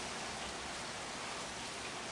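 Steady rain falling in a backyard, a continuous broadband hiss of drops on surfaces with no breaks, fairly soft and close, no voices.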